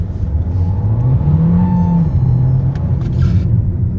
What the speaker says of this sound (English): Even though when I press the accelerator quickly, I observe that there is a 1 second lag in the acceleration.